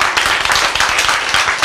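An audience at a lecture claps briefly, quick dense handclaps in a steady burst that sounds fairly close.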